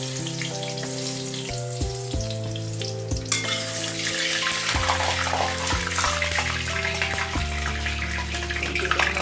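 Water splashes into a hot kadai where dry red chilies and bay leaves are frying in oil for a Bengali meat chochori, a loud steady sizzle rising and surging with no talking.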